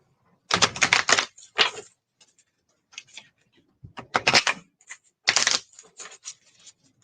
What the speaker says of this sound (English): Let me see if I could shuffle for you a little bit and find your card here.